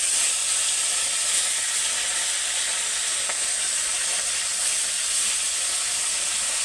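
Fish pieces frying in hot oil, a constant bright hiss and sizzle held at an even level from start to finish, close and loud with no voices.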